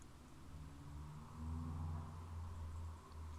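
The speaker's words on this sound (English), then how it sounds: "Car drives by." A car drives by as ambient background sound in the video game Amnesia: Memories, a steady low rumble that swells slightly midway and then settles, with no voices.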